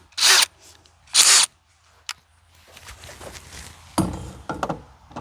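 A pocket tool scraping and clicking against an RV fridge igniter and its screw, with two loud bursts of scraping, a sharp click, then rattling fumbling, close up and with no talk.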